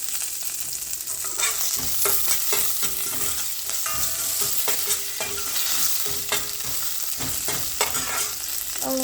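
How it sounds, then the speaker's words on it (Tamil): Rasam tempering with curry leaves is stirred in a pan, with a spoon scraping and clinking rhythmically over a constant loud sizzle and crackle. "ஸோ இதை லைட்டாக ஒரு ஸ்டிர் கொடுத்துடுறேன்."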